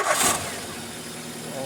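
A Ford car engine, Ecosport or Fiesta with a misfire, cranks briefly after the key is turned and catches into a steady idle, close and fairly loud with no talk.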